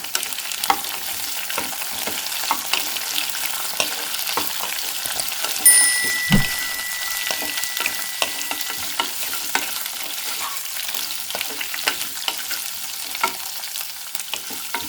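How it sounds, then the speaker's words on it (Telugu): Capsicum and onions fry in a pan with steady close sizzling and crackle, broken by frequent short scraping stirs and one louder clatter partway through. "ఇప్పుడు ఇందులో మనం ఉల్లిగడ్డలు కూడా వేసి ఇంకో 2 నిమిషాలు ఫ్రై చేద్దాం"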